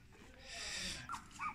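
A small dog whimpers and yelps in short, high-pitched cries, with a couple of sharper squeals near the end, close by.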